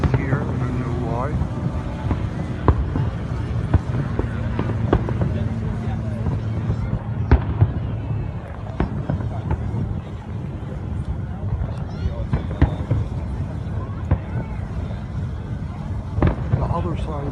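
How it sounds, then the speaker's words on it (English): Independence Day fireworks in New York, launched across the river from the New Jersey side, boom and crackle at a distance in an irregular stream beneath the hum of a large crowd, with people talking nearby. "And all of these fireworks that are playing it from"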